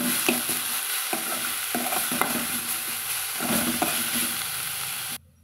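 Tamarind and rock salt dry-roasting in a hot pan, a dense continuous crackle with repeated scraping stirs of a spatula, close and loud, cutting off abruptly near the end, no voices.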